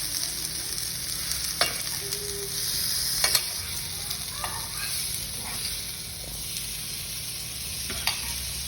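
Paneer Amritsari kebabs fry in ghee, giving a steady close sizzle with a few scattered clicks and taps as the pieces are turned.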